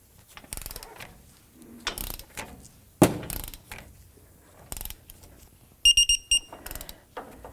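A ratchet with a 21mm socket turns a tie rod nut on a 1997-04 Dodge Dakota, giving short bursts of sharp clicking between quiet pauses, followed near the end by a quick run of clicks.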